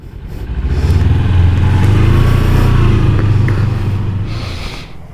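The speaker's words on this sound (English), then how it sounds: "I'll park the bike and come up." A motorcycle ridden along narrow Scottish roads rumbles loud and close, its engine swelling steadily and then easing off and dropping away as the bike slows to park, with no voices over it.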